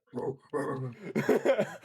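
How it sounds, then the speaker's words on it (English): A dog in a war video game gives a few short barks and whimpering yelps in quick, uneven bursts, close and fairly loud. "This dog kind of acting funny."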